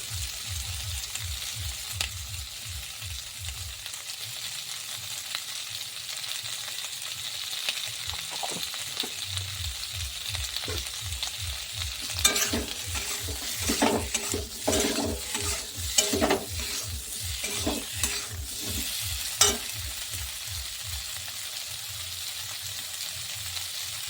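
Potatoes for alur dum being stirred and mixed in a sizzling pan with salt. Steady frying hiss runs throughout, with scraping and clinking bursts of stirring in the middle. No talking.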